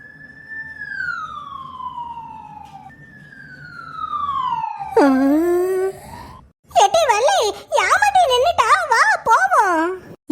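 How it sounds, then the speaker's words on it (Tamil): A police siren wails nearby, first a long falling tone, then rapid up-and-down yelps, loud and close; voices are faintly present beneath it. "போலீஸ் வண்டி சத்தம் கேட்குதுடி"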